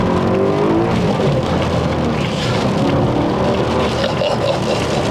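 A V8 BMW M3 engine revs hard and continuously through manual gear shifts, a loud, dense, unbroken roar with pitch rising and dropping as the driver blips the throttle for a downshift.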